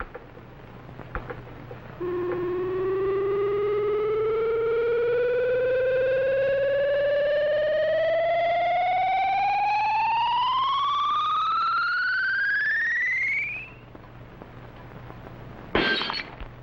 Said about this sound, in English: whatever the beam hits will be instantly shattered by the ultrasonic sound wave vibrations